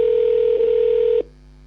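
A telephone dial tone holds steady and loud for over a second, with brief blips of a number being dialed, before it cuts to a quieter line hum.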